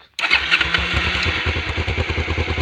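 A Honda CBF 500 motorcycle engine cranks and fires up abruptly, then settles into a loud, steady, throbbing idle close by.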